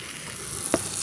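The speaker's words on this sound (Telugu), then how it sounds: "ఎండుమిరపకాయలు వేసుకొని కరివేపాకు వేసుకొని ఇంగువ, పసుపు వేసుకొని మనము మిక్సీ పట్టుకున్న కొబ్బరి పచ్చళ్ళకి తాలింపు వేసుకొని" Dried chillies, curry leaves, asafoetida and turmeric sizzling in hot oil as a tempering for coconut chutney, a soft steady crackle with one brief sharper pop, close and fairly quiet, with no talking.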